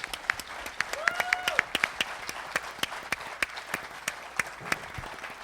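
A crowd applauds honored drivers at a driver appreciation event, a dense run of claps with sharp individual hand strikes standing out, sustained at a steady level for several seconds.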